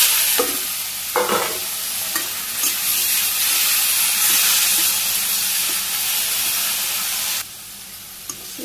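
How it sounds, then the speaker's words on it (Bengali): Leafy greens with cumin and green chillies fry in oil over a clay stove, crackling and hissing loudly and continuously with a few scraping stirs before the sizzle drops away at the end. "শাক ভাজি হয়ে গেছে আমি নামিয়ে নিই"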